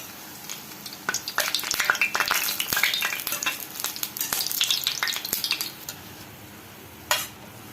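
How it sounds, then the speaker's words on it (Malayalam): Bread slices fry in a pan of hot oil, giving a steady bubbling sizzle with frequent sharp crackles and pops. Utensils scrape and clink now and then. One louder hiss comes near the end, and nobody speaks. "നമുക്ക് ഈ പാത്രത്തിലേക്ക് കുറച്ച് എണ്ണ ഒഴിച്ച് ബ്രെഡ് പൊരിച്ചെടുക്കാം"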